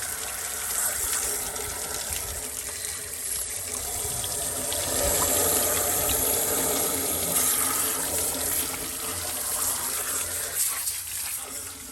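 Water gushes steadily through a Jeep engine as junk is flushed out, a continuous hose-like rush that stays fairly loud and even throughout with no talking.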